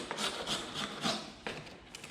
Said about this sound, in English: once you've seen one corner being scraped